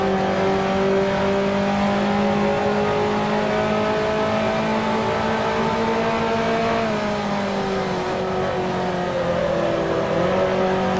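A 1955 Formula One race car engine in the Grand Prix Legends racing game at the French Grand Prix, a loud, steady buzzing drone with pitch slowly rising and falling as the car rolls through a corner and throttles out, heard alone.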